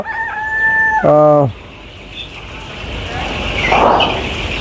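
Colour bird broiler chickens on a poultry farm during weighing give a loud, close, drawn-out crow-like call near the start, then fainter clucking and flock noise under a voice.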